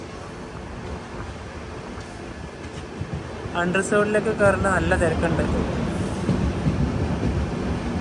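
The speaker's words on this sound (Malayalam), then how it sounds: "കൊല്ലം ജംഗ്ഷൻ റെയിൽവേ സ്റ്റേഷനിലേക്ക് ഇതാ നമ്മുടെ ട്രെയിൻ എത്തിക്കൊണ്ടിരിക്കുകയാണ്." An express train rolls into Kollam Junction railway station at platform 2, its wheels rumbling and squealing steadily while a voice talks over the noise and the rumble swells louder midway.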